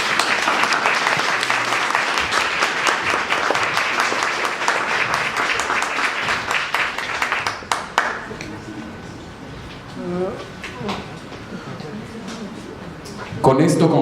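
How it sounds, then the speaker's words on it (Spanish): An audience at an educational inclusion seminar gives a loud, sustained round of applause for the presenters, then the clapping thins out and a voice begins speaking over a few scattered claps. "Démosle un fuerte aplauso."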